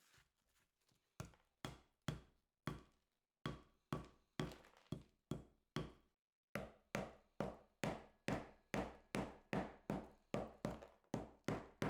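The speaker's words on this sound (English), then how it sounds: "The bulk of the shell is removed by striking it with a small hammer, being careful not to hit the metal casting underneath." A small hammer strikes a ceramic investment shell on a metal casting, breaking it away in a steady run of sharp, close knocks and thunks, spaced at first and then coming faster and regularly, with no talking.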